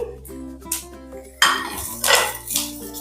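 Roasted hurda grains being stirred with sesame seeds in a pan over a low flame, giving loud close scraping and rattling bursts of a utensil against the pan over a steady background hum.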